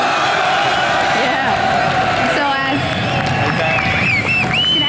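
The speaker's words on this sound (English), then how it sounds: "this crowd is so loud that we can't even hear the noise you make" Loud crowd roaring and whooping at a League of Legends esports arena event, a dense constant din with shouts and cheers rising above it and voices talking amid the noise.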